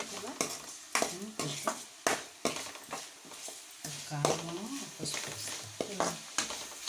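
Prawns in a telagapindi curry fry in a pan as chopped coriander is stirred in, with repeated scraping and clattering strokes of a utensil over a low sizzle and someone talking throughout.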